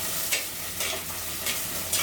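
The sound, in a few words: chopped shallots frying and stirred in pan for chicken gravy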